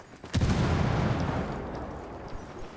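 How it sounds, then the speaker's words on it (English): A single loud, close explosion in a Call of Duty Special Operations mission, a sudden sharp burst followed by a deep rumbling decay that fades over about two seconds. "Alright, enough explosions."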